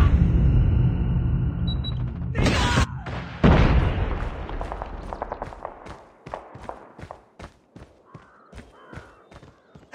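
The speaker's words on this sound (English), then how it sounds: "Watch out, grenade!" A grenade blast in the mobile shooter Call of Duty Mobile, two heavy booms in quick succession followed by a rapid train of sharp gunshot-like cracks that fade, loud and close.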